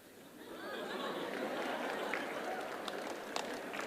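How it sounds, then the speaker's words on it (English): Teachers and students at a school applaud together, making a soft, steady wash of distant clapping mixed with crowd murmur and chatter, fairly faint throughout. "Now, on this one, the teachers are clapping more than the students."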